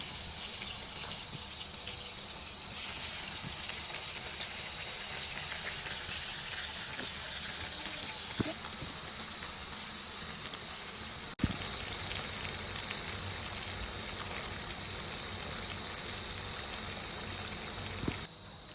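Steady hiss and crackle of homemade french fries, cut from potatoes, frying in hot oil, a constant dense sizzle with a few faint pops throughout.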